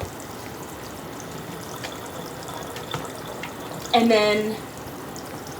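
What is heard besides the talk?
running water rinsing a dog during its bath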